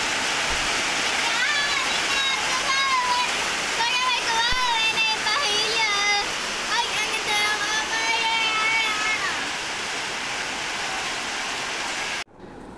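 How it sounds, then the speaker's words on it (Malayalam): Sudden big-drop rain falls in a dense, steady wash of noise close by, while a person talks over it throughout, before the sound cuts off near the end. "പെട്ടെന്ന് പെയ്തൊരു മഴയാണ്, നല്ല വെയിലുമുണ്ട്"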